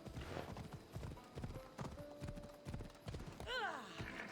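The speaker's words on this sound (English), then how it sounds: "Come on, climb the mountain, horse." A horse's hooves clip-clop in a steady, even rhythm as it climbs a mountain path in Assassin's Creed Odyssey, with a brief whinny near the end over soft game background sound.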